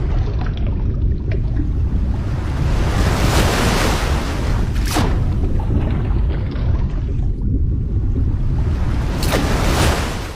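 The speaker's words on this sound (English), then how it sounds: "The violent waves show just how strong the shaking really was." Water in a swimming pool thrown into violent waves by a powerful earthquake in Turkey, heard as loud continuous sloshing and rushing surges with heavy wind-like roar and occasional splashing crests.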